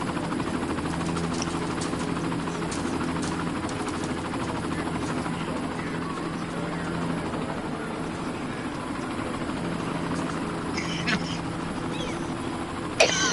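Many helicopters fly overhead, making a steady, continuous rotor drone that holds at an even level throughout, with occasional faint background sounds over it.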